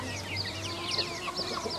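A rooster crows with a strained, wavering call over a steady farmyard hum, with some clucking around it.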